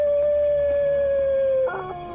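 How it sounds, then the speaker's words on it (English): A wolf in Assassin's Creed Brotherhood lets out a long, steady, loud howl that slowly falls in pitch before fading into quieter game ambience. "Wolves."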